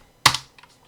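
A single Ctrl+U keystroke on a computer keyboard while editing a PLC counter program, one sharp close click followed by a couple of faint softer taps.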